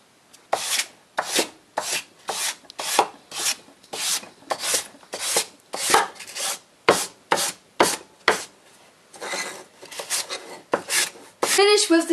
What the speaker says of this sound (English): To make the last finish, you have to use some sandpaper with tiny cones.